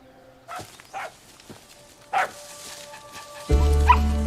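A puppy gives a few soft, high whimpers and yips with pauses between them in a TV drama scene, then a loud buzzing hum cuts in near the end.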